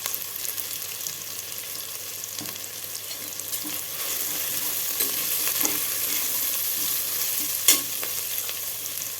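Onions sauté in a pot for a Kongunadu-style one-pot rice and lentil dish. A steady sizzle runs under occasional spoon scrapes and stirs, with one sharper clink near the end and no talking.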